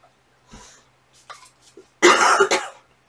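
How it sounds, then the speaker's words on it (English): A loud, harsh cough burst of two quick hacks, close by, after a few faint rustles and small sounds. "Still got that cough"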